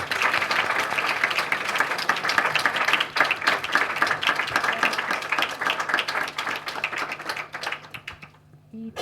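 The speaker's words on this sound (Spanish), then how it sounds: "Un aplauso, por favor, a Elvira." Sustained applause from an audience at a university undergraduate literature colloquium, dense and steady for several seconds before thinning out and fading near the end.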